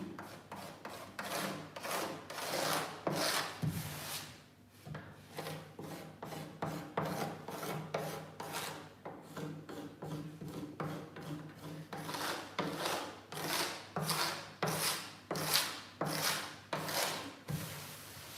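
Repeated rasping scrapes of a scraper on violin varnish, a steady back-and-forth rhythm of strokes, close and fairly quiet, with a brief pause midway.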